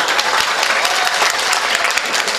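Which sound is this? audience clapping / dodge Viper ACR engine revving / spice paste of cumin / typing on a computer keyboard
audience clapping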